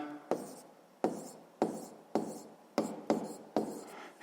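Chalk or a marker writes numbers on a classroom board in a physics lesson, making a rhythmic run of about seven short scratchy strokes at even intervals, close and fairly clear.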